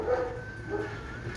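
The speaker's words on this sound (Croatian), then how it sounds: "Evo ga njegov pas." A dog at a former home in the Kirija area gives soft barks and whimpering whines, close and moderately loud, with no speech over it.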